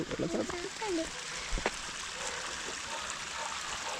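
Waterfall at the Ooty botanical garden gives a steady, close rushing wash of water, with voices talking over it in the first couple of seconds.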